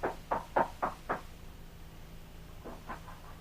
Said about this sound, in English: We hear him as he raps on the door of Jim's home.